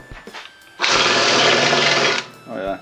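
A drill bit whines steadily as it cuts a chamfer into metal for about a second and a half, with brief clanks and handling noises before and after.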